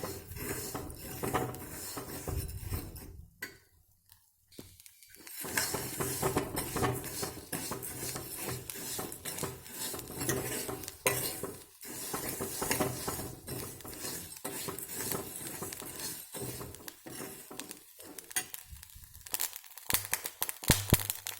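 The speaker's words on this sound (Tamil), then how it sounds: "உப்பை நல்லா வறுக்கணுங்க." Dry salt being roasted and stirred in a small iron kadai: continuous gritty scraping and metallic clinks of a spoon against the pan, close and fairly loud, with a brief pause early on and no talking.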